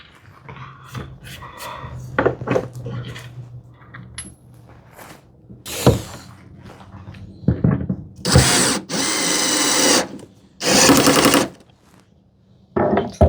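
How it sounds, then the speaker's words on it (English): A power drill at reduced torque drives screws into wood, giving several sustained whirring bursts of a few seconds each with clicks and clatter between them, loud and close. "Now time to like drive these screws in."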